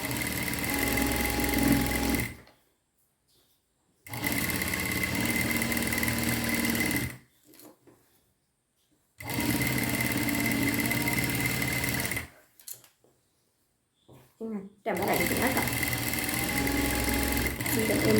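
Sewing machine stitching along a single folded fabric edge, running in four long bursts of steady motor whir separated by pauses with quieter handling sounds.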